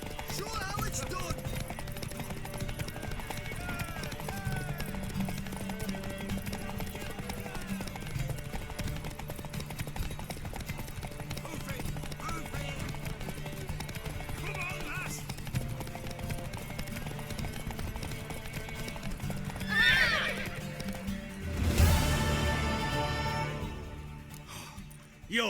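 Horse hooves clip-clopping at a steady pace in The Witcher 3, with game music and voices over it and a louder burst of movement near the end.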